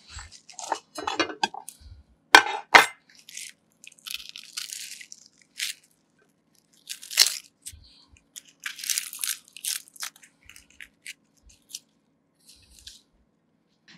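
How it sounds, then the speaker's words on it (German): A knife slices an onion into rings on a cutting board: irregular crisp crunches and clicks in short bursts separated by silent gaps, close and fairly loud, with no talking. "Jetzt schneiden wir die Zwiebel einfach auf Ringe."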